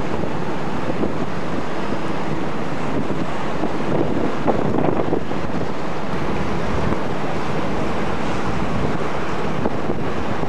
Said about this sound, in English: Nice day, but a bit windy.